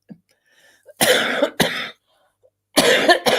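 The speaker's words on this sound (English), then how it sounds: "She's made me cough." Several sharp, loud coughs close by, a pair of quick bursts followed by a pause and then another pair, with near silence between them.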